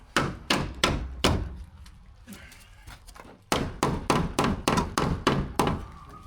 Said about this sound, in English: we're gonna have to implement a chisel to get into the tighter spots